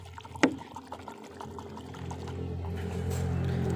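Water sloshes and gurgles inside a Honda CD 70 motorcycle battery being shaken during repair of a dead battery, a steady liquid churning that builds and continues throughout, with a brief knock near the start.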